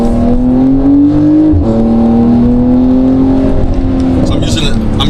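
Porsche in manual mode, its engine revving steadily under load with the pitch climbing gradually, loud and close from the driver's seat, with a short dip as it shifts partway through.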